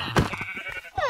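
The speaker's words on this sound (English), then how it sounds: "Now, I can turn into a sheep as well!" A single sheep bleats in Minecraft, one short, loud, wavering call up close, followed by other brief game sounds.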